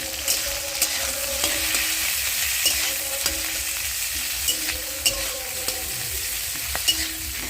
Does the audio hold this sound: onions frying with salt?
yes